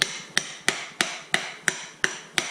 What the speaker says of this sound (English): I'm going to tap the center a little bit, and then I'm going to tap the outside